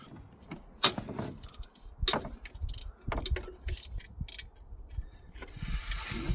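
A ratchet works on the lower alternator bolt of a Honda CR-V in a tight engine bay, making sharp metallic clicks and clanks in irregular bursts with quieter gaps between them.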